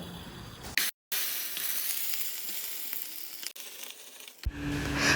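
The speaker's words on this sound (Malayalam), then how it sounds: "ഇനി നമുക്ക് നമ്മുടെ മസാലക്കൂട്ട് ഇതിലിട്ടിട്ടൊന്ന് വഴറ്റിയെടുക്കാം കേട്ടോ" A masala paste sizzles loudly in hot ghee while it is sautéed for onion rice, with a continuous close hiss broken by a brief pause and occasional stirring scrapes.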